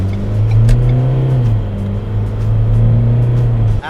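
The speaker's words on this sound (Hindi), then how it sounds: "भाई हाँ ये तो है कि स्पीड तो जा रही है गाड़ी की।" A Ford Endeavour 2.0 with a remotely unlocked ECU accelerates on the road, its engine a loud, steady drone that rises in pitch, heard from close by with no talking.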